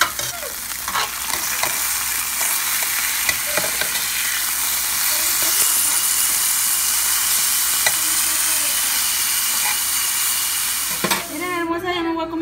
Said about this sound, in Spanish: y estoy cocinando carnitas